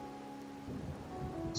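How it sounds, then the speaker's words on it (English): Rain falls in the Wuthering Waves video game as a soft, steady hiss under a faint tonal background, growing slightly fuller in a brief moment with no talking. "So he's waiting out in the rain."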